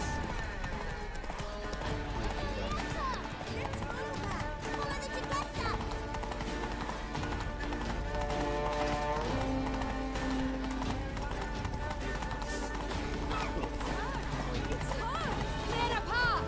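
Galloping horse hooves clip-clop steadily in The Witcher 3: Wild Hunt, Blood and Wine, running beneath game music and voices, with an occasional neigh.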